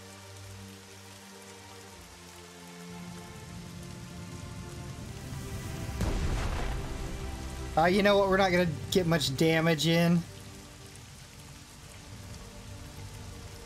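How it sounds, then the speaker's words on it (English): Steady rain patters continuously at night in a World War II strategy game, a soft hiss that holds under someone talking and grows a little louder partway through. "Because it's night and it's raining and shit."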